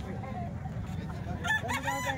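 A rooster in Calumpit crows close by, a short loud call rising over a low background rumble near the end of the brief stretch.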